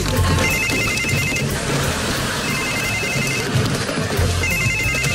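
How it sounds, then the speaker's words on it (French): A telephone rings in a radio studio, its electronic ringtone repeating in loud bursts over a busy, noisy background. "Le téléphone!"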